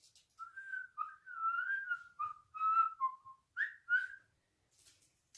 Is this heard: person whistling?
yes